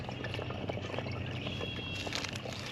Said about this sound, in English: listening to the water drip down